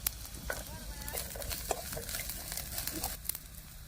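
Onion and grated coconut roast in a little oil over a wood-fired stove, giving a soft sizzle with light scraping and stirring clicks, faint and close, with no talk.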